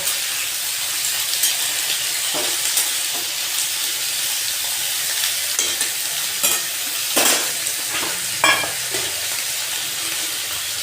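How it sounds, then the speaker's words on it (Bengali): Pieces of mitul, a winter vegetable, fry in a pan in a steady broad sizzle, with a few sharper clinks and scrapes of stirring toward the end, close and alone. "এর মধ্যে মিঠুলিগুলো দিয়ে দিলাম আমি এগুলো কিছুক্ষণ ভেজে নেব"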